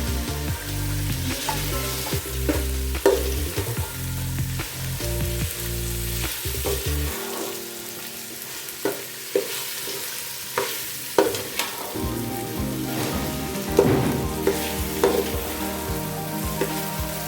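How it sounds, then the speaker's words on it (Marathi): Carrots and mixed vegetables for pulao sizzle and fry in a pan, a steady crackle broken by repeated scrapes and clinks of a spoon stirring. "हे आपल्याला एकत्र परतून घ्यायचे."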